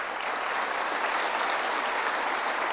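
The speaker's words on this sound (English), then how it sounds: "I'd like a big round of applause for our cardiologists and our scientists." Sustained, dense applause from an audience at a medical conference on structural heart disease treatment, steady and even throughout with no voices on top.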